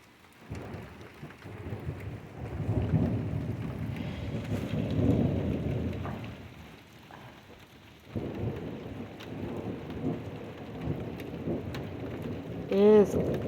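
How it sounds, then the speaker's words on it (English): Spring thunderstorm with steady rain pouring down and low rumbles of thunder rolling through, moderately loud and continuous, with a brief higher tonal sound near the end. "Rain's coming down harder."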